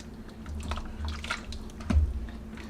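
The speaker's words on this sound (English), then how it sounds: "So I'm just gonna stir it all together." A spoon stirs melted cream cheese into chicken chili in an Instant Pot, making soft, wet squishing and gloopy sounds in short bursts over a faint steady hum.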